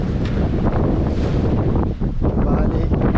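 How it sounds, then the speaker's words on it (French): A strong gust of wind roars and buffets the microphone aboard a sailboat, a loud continuous rush that dips briefly before surging again. "Ah, il y a une rafale."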